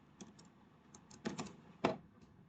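Keystrokes on a computer keyboard while writing code, a sparse cluster of quiet clicks with a few louder taps near the end, close by in a quiet room.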